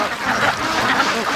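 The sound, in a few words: ducks and goose calling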